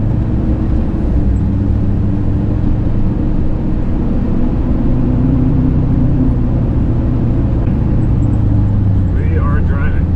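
A wrecked LBZ Duramax diesel truck on the move, its engine a continuous low drone with road rumble steady and close for the whole stretch.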